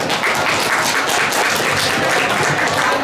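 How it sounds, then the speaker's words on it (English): A dense wash of audience applause fills a fashion-week panel event, steady and close, made of many overlapping claps with no talk. "So huge applause to them."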